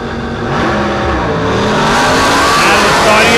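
Stock cars launching at a drag race, among them a 1980 Chevrolet, their engines revving loud and close as they accelerate hard off the line and the roar builds steadily.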